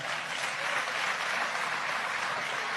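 Sustained audience applause fills a large hall during a political speech, a dense, steady wash of clapping at moderate distance that holds evenly throughout, with no talking over it.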